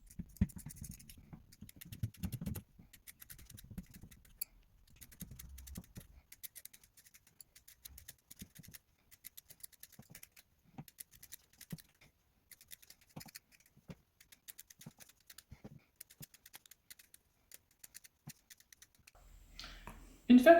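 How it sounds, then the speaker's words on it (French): Scissors snip through a grey sock, cutting about ten strips roughly 2 cm wide, giving faint, scattered crisp cuts and scratches in a quiet room, with a louder rustle at the very end. "on va découper 10 lanières d'environ 2 cm de large dans cette chaussette"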